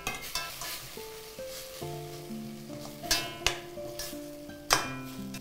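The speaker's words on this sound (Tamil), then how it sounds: "இப்போ பாருங்கள் இந்த துருவி வச்சிருக்கிற மாங்காயை இதில் போட்டுடுறேன் நான். போட்டுட்டு ஒரு வதக்கு வதக்குங்க." Grated raw mango sautéed in a pan, with sharp metallic spatula clanks and scrapes that ring out over a soft sizzle, the knocks coming at irregular intervals.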